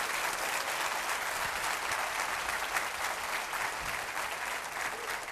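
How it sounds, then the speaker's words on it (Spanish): Congregation at a Spanish-language church service applauding steadily, a dense, even wash of clapping sustained at constant loudness throughout, no voices over it. "Dale un aplauso."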